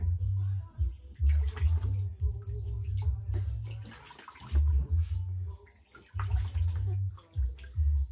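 Water poured over a baby's face during a bath, heard as a run of splashing pours and sloshing in a tub, starting and stopping several times, close and fairly loud, with brief pauses between.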